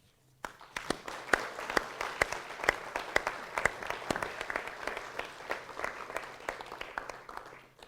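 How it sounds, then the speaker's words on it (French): Audience applause at a French municipal council meeting, starting abruptly and sustained as dense, crisp clapping from a room of people, no speech over it. "Merci donc d'applaudir ces personnes précitées car elles le méritent vraiment"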